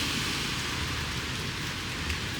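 Heavy rain pours steadily over Shenyang in northeast China, a dense, even wash of noise that stays constant and fairly loud throughout, with no voices.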